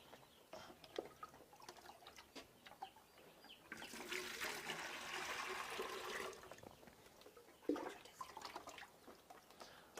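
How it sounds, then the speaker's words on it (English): Water splashing and pouring onto a spoonful of powdered poultry supplement for 300 chicks, a steady broadband rush lasting a couple of seconds in the middle, with faint chick chirps and small clatters before and after. "Then add some water."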